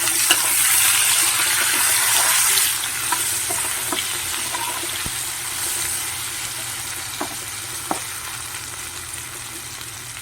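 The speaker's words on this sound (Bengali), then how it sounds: "আগে আলুটা ভাজা হোক" Potatoes frying in oil with turmeric and salt, a loud steady sizzle close up with occasional spoon clicks as they are stirred, no talking.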